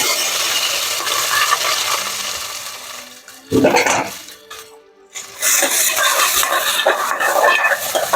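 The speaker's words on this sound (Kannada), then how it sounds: "ಈರುಳ್ಳಿನ ಚೆನ್ನಾಗಿ ಫ್ರೈ ಮಾಡ್ಕೊಳ್ಳೋಣ" Onions frying in a pan with cumin, fennel, cardamom, cloves and green chillies, a loud steady sizzle broken by a clatter of a utensil stirring, then a brief quieter gap before the hiss returns.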